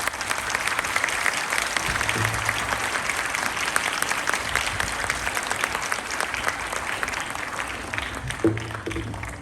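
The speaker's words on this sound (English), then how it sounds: "Let us honor him with a huge round of applause." A crowd at a school Founder's Day celebration gives the chairman a big, sustained round of applause, with dense clapping throughout and a few faint voices underneath.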